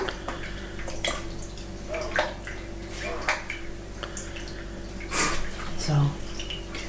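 Raspberry makgeolli, a Korean rice wine homebrew, poured and pressed through a preserves strainer, with trickling, dripping liquid and occasional clinks of utensils against the bowl, close and fairly loud.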